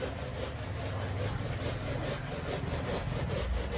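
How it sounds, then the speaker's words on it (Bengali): Pumpkin rubbed back and forth across a homemade metal grating plate, a continuous coarse rasping scrape repeating in quick strokes, close and fairly loud, with no talking. "তো চলো কুমড়োটা কুড়ে নিই।"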